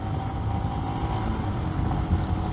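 A Royal Enfield Himalayan motorcycle accelerating through an overtake: a steady, droning engine note blended with constant wind rush, loud and close throughout with no talking.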